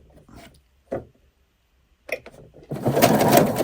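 A domestic sewing machine stitching a shirring row on fabric, a short whirring run starting near the end after a few light clicks and taps.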